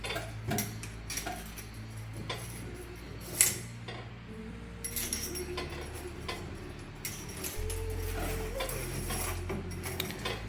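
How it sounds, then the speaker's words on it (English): Clicks and light metallic ticking from a faucet fitting being hand-tightened during installation of an AH Home AH08 tap, close and fairly quiet over a steady low hum, with one sharper knock partway through. "Now we can tighten this one properly."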